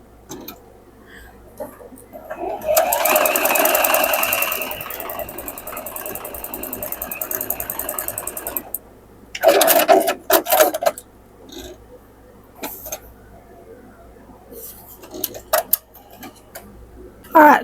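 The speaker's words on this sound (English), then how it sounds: "on each side, I'm going to sew 1/4 inch" A sewing machine sews quarter-inch seams along a diagonal line on a modern quilt block, a close whirring run of several seconds followed by shorter bursts and handling clicks.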